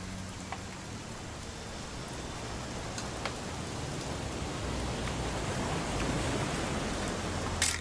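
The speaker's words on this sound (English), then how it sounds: "It's gonna rain the whole weekend, isn't it?" Rain falls steadily in What Remains of Edith Finch, an even hiss of drops with occasional brighter patters, gently swelling toward the end.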